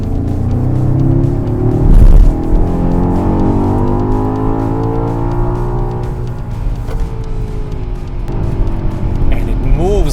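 A 2021 BMW X5M Competition with a 600-plus horsepower engine and 8-speed gearbox rumbles loudly and steadily, its rising and falling engine harmonics sweeping as it accelerates and shifts, with someone talking over it throughout.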